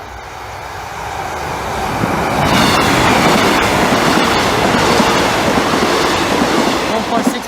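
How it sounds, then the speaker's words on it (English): A five-carriage train rumbles steadily past a railway level crossing at night near Barnby, a loud continuous roar with rhythmic wheel clatter that swells and holds close by. "Trains here."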